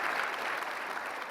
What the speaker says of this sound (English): could you please give an incredible round of applause to these incredible auditors?